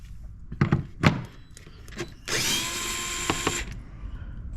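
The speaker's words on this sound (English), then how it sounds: "Let's go ahead and hook the screwdriver up for that." A power screwdriver whirs in one steady burst of about a second, removing 10 mm bolts from the cowl of a 2023 Mini Cooper S during a JCW tuning kit install, preceded by a few sharp metallic clunks and taps.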